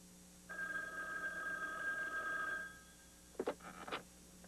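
A telephone rings indoors with a sustained electronic bell tone lasting about two seconds, followed by short fainter bursts of sound, with no talk over it.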